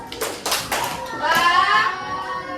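A classroom of children claps hands together in a 'tepuk bagus' praise cheer, a quick burst of close claps followed by scattered children's voices talking.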